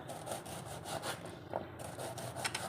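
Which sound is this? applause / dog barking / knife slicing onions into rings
knife slicing onions into rings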